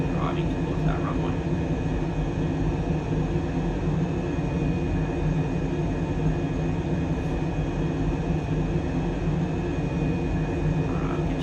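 A Super Hornet jet engine on landing approach in a flight sim game holds a steady, loud, unbroken roar throughout, with a voice talking over it.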